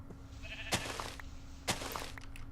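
Sheep in the Minecraft SevTech modpack give two short, clear bleats about a second apart over a quiet background.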